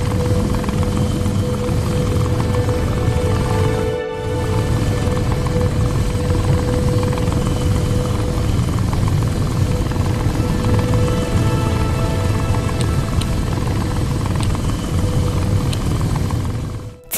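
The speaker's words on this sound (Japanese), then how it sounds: "ヘリコプターの操縦。" A helicopter in the VR flight simulator game World Flight on a Meta Quest headset produces a steady, loud rotor and engine drone with a brief dip partway through, continuous to the end.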